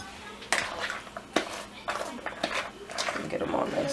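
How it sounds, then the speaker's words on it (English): Seasoned chicken, potatoes and onions are stirred in a dish, with close scraping and clinking of a utensil against the bowl in uneven strokes while someone talks over it. "Let me mix it all up."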